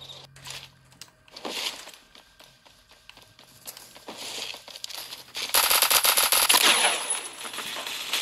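Gunfire in the Roblox shooter Phantom Forces crackles in scattered rapid bursts, building to a dense, louder volley of automatic fire near the end.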